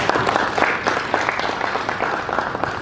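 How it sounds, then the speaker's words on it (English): Audience at an Atlanta–Daegu sister city art exhibition applauding steadily, a dense, even patter of many hands clapping at moderate volume throughout. "Another round of applause for Council President Felicia Moore."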